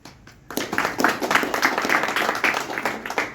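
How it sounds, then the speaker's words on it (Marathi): Applause from a small group gathered for a father's birthday celebration, a steady patter of clapping that rises after a quiet start and carries on evenly to the end. "टाळ्या"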